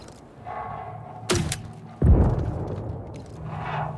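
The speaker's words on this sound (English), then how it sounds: "I got full visual on Detox and the explosions." Explosions in the video game Star Citizen: two loud, deep blasts roughly a second apart, the second heavier and rumbling as it fades over steady low game ambience.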